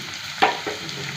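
Onion and ginger garlic paste dropped into hot oil, a brief sharp sizzle burst followed by a softer stir, close and fairly quiet without talk.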